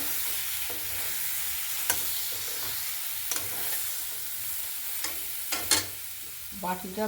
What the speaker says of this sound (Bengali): ভাজা পটলগুলো দিয়ে মশলার সাথে একটু মিশিয়ে নিচ্ছি।